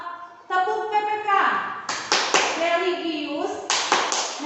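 Schoolchildren chant in unison while clapping in sharp rhythmic bursts, the claps landing as distinct group hits between and under the loud chanted words.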